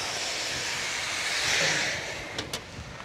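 Sulphurous geothermal steam hisses steadily from an Icelandic vent, a broad close rush that swells midway, with brief knocks near the end.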